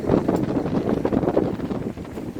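Gusty wind blusters across the microphone during a walk along a beach, in a continuous rushing rumble, easing slightly toward the end.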